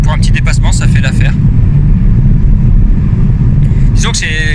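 A 2019 Ford Fiesta Mk8 ST-line with a 1.0-litre three-cylinder engine accelerates to overtake, its steady engine drone heard from inside the cabin while someone talks over the start and end.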